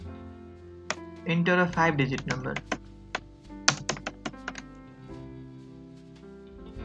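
Keys clatter on a computer keyboard while C code is typed, a quick burst of close, uneven clicks followed by scattered single taps, with a low steady hum underneath.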